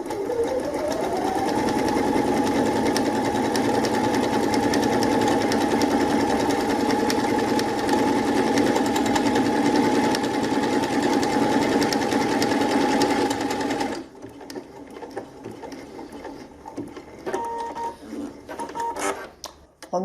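A Pfaff Ambition 630 sewing machine sews a 2 centimetre buttonhole, humming loudly and continuously up close for about fourteen seconds with a rising whir at the start, then stopping, followed by quieter handling clicks.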